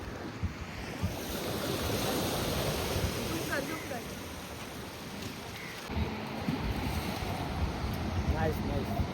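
Sea waves wash against the shore in a steady roar mixed with wind buffeting the microphone, while people talk and call out nearby.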